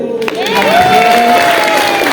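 A theatre audience at a Shelter Rumah Hati performance applauds as a crowd, a steady wash of clapping with a sustained tone riding through it and voices mixed in.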